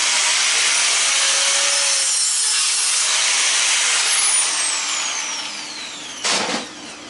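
A saw cuts through part of a big sealed unit in a loud, continuous grinding rasp that eases near the end, followed by a brief sharp scrape, with no talking.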